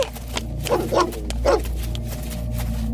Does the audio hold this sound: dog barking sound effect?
yes